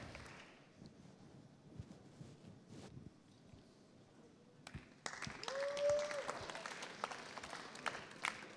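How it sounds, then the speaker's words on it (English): Event audience at a London roadshow applauds a live poi-spinning performer, the clapping starting midway after quieter room sound and continuing as a steady, moderately loud wash, with voices faintly mixed in. "let's give a round of applause"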